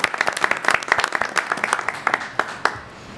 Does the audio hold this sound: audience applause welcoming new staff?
yes